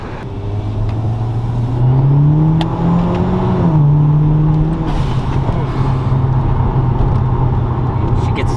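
A modified Hyundai Genesis accelerates hard, heard close from inside. The loud engine note climbs steadily, drops briefly at a gear change, then keeps pulling with a steady droning roar.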